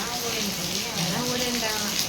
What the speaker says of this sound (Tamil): நல்லா மழை பெய்யுது பாருங்க, நல்லா மழை பெய்யுது